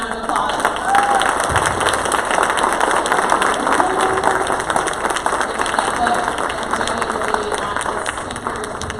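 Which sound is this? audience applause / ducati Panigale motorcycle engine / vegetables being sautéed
audience applause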